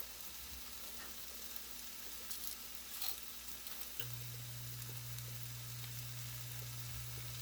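Risotto rice with black pepper and salt toasts in a pan, giving a quiet, even sizzle with a faint low hum underneath and a few soft scrapes; no voices.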